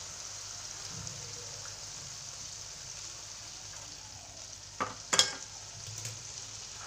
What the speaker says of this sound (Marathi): मी आता पाणी सोडलेलं आहे